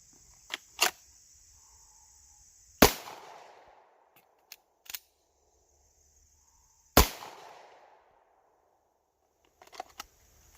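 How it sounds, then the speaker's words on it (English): Pistol shots from a draw-and-reload training drill: a few sharp, loud single reports spaced seconds apart, with small metallic clicks and handling noises between them and no talk. "So I'm going to do a draw, fire, perform a reload once it goes into slide lock, and then reload once I finish reloading, take another shot"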